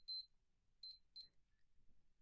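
Three short, high electronic beeps from a Fastime 28L stopwatch alarm: two close together, a pause, then a third, faint against a quiet background.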